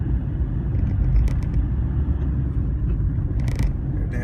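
A Hyundai i20 engine drones and revs while driving through town, a loud steady low rumble with brief clicks on top.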